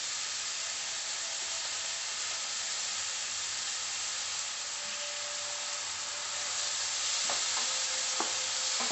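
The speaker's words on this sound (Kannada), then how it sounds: "ಶೋಕುಡು ಫ್ರೈ ಆಗೋಡು ಆಯಿಲ್ದೆ ಟೊಮೆಟೊ ಈರುಳ್ಳಿ ಪೂರ ಶೋಕುಡು ಬೇಯೋಡು" Ginger frying in oil in a pan for a hotel-style egg gravy, a steady close sizzle and hiss throughout with a few faint clinks of a stirring utensil near the end.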